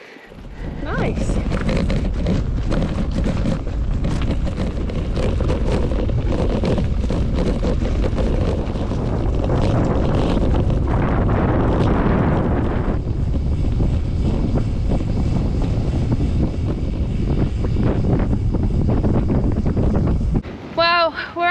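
Strong wind at a lake on the Traws Eryri bikepacking trail buffets the microphone in a loud, continuous roar with gusty surges, with brief talk near the end.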